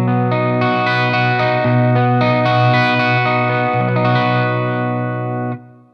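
A Cort KX500 Etched electric guitar with an ash top and Fishman pickups rings out a single strummed chord through chorus and distortion effects, sustaining full and loud before being cut off cleanly.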